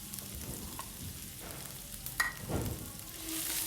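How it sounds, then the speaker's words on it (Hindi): Onions and green chillies frying in a pan over a low to medium flame, a soft continuous sizzle with a few light stirring clinks, steady and close with no talking. "हमने इसको थोड़ा सा फ्राई कर लेना है कि इसका कलर चेंज हो जाए"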